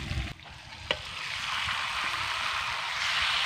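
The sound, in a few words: marinated broiler chicken being stirred into fried spice masala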